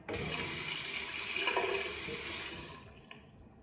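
Water runs from a sink tap during face washing, a steady close rush that continues for almost three seconds and then cuts off, leaving near silence.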